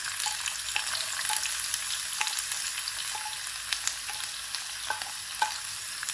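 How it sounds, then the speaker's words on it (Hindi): Ingredients frying in half a cup of oil in a pan: steady bright sizzling with scattered crackles and small pops, close and continuous, with no voices. "यहाँ पे मैं आधा कप ऑयल डाल दूंगी और ये सारी चीज़ें जो मैंने आपको दिखाई थी ना ये वाली इसके अंदर सारी डाल दूंगी"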